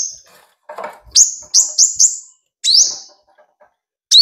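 A caged five-colored sunbird gives a series of short, high, sharp chirps, several in quick succession and then a couple more after pauses, loud and close, with faint rustling in between.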